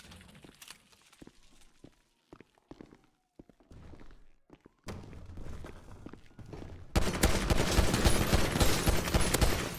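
Bursts of automatic gunfire in a GTA 5 roleplay police pursuit, sparse shots and thuds at first, then a dense, loud continuous volley near the end.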